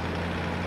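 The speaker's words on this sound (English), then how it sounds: "See, the Mass is a very loud truck as well." A loud Mass truck engine in the video game Farming Simulator 15 drones with a steady low hum, heavy and constant throughout a brief moment, with no talking.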